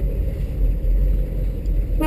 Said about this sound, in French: Klaxon qui fonctionne.